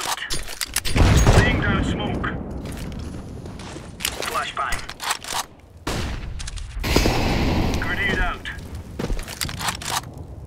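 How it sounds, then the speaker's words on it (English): Video game combat in a tactical shooter: sharp gunfire bursts, grenade and smoke-grenade blasts cracking close by, with footsteps and voices talking over the fighting. "Grenade out. Laying down smoke."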